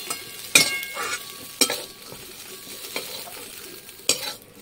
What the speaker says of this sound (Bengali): তো সোয়াবিনটা ভাজার জন্য আমি সামান্য দেবো নুন আর দেবো এই হলুদটা দিয়ে একটু নাড়িয়ে নেব।